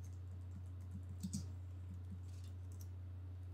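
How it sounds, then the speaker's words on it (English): Close, quiet keystrokes and mouse clicks tap out a short irregular run on a computer keyboard over a low steady hum. "I'm just going to click on it and type that back in"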